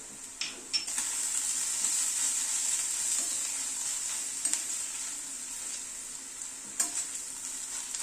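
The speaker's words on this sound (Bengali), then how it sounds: "আদা কুচিটা দিয়ে আবার একটু ভেজে নিলাম" Chopped ginger and onion frying in a pan with a constant bright sizzle, broken by a few sharp scrapes and clicks of a spatula against the pan, close and alone with no voices.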